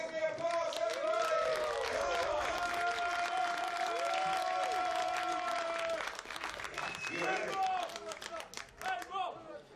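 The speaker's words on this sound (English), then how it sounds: "Give me applause, everybody!" Crowd at a European shooting championship trap gold medal final clapping and cheering, sustained applause with vocal calls and a prominent announcer-like voice over it, thinning to scattered claps and chatter in the last few seconds.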